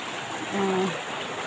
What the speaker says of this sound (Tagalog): Ang ginadaanan namin mga kaibigan, sapa.